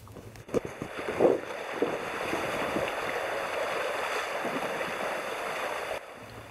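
A sailboat moving along under a light breeze of about 6 knots, with a steady, close rush of wind and water noise that runs almost unbroken, plus a few knocks and bumps near the start.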